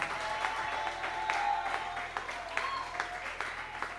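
A church congregation applauding during a sermon, a steady wash of hand claps with a few sharper bursts, fairly distant and moderate, mixed with murmuring voices throughout.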